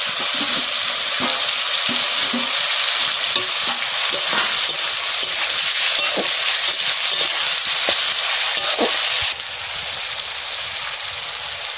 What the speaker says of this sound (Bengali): আমি পেঁয়াজও দিয়ে দেবো, একসাথে সব ভাজা হবে।